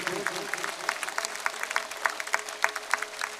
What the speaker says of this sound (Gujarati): જરા જોરથી તાળીઓ પડે.